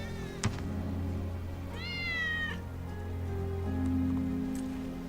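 One drawn-out cat meow in the Final Fantasy VII Remake video game, clear and mid-loud over steady rain and a low ambient hum, with a small click just before it.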